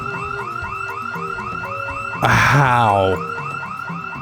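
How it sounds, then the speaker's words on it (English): A car alarm in the zombie survival game Project Zomboid whoops in fast, repeating rising sweeps. Partway through, a louder, harsher burst cuts in briefly, and a man's single short exclamation is heard. "Me walking in the garage door set off the alarm."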